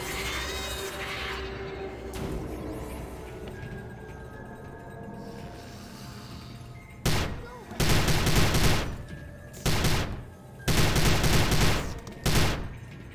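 Gunfire in the shooter game Prey (2006): after a stretch of low ambient rumble, bursts of loud, close automatic fire come in several clustered volleys with short gaps between them.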